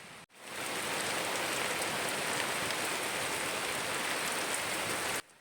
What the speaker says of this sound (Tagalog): Lumakas na nga ang ulan, pero buti na lang walang kasamang hangin kaya hindi kami nababasa sa kubo.